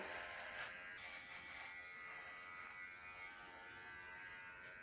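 An electric clipper shaves a dog, humming in a steady faint buzz close by without pause.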